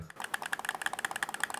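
A rapid series of light plastic clicks, evenly spaced and crisp, from the bumper buttons on a gamepad with mechanical switches, pressed repeatedly up close.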